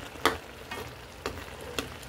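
Cauliflower, sayote and chicken sautéing in a pan, a low steady sizzle broken by four soft spatula scrapes at even intervals.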